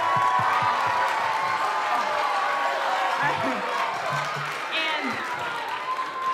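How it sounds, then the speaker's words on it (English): A concert audience applauds and cheers for a sixth grade band at the Beverly All City Band Concert, a sustained wash of clapping with a few whoops while a voice speaks over it. "So a little round of applause for them tonight."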